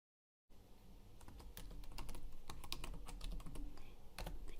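Rapid, uneven keystrokes on a computer keyboard as a username is entered, close and clear, with dense clicking for about four seconds after a brief silence.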